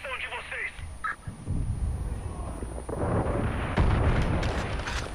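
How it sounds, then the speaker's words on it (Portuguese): Enemy gunfire in the video game Far Cry New Dawn during an outpost raid, shots firing one after another as repeated sharp cracks over a rumbling game-combat background, with a player talking over it. "Ele tá atirando uma atrás da outra."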